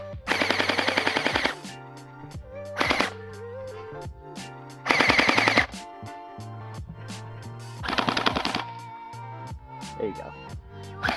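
Bursts of rapid full-auto fire from a Bwine M4A1 gel blaster, three or four short volleys of quick rattling shots spaced a few seconds apart, with a person talking in between the bursts.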